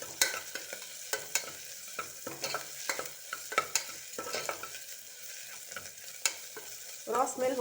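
Ginger garlic paste fries in a pan over golden-brown onions, a close crackling sizzle punctuated by frequent sharp spatula clinks and scrapes as it is stirred, with no voices.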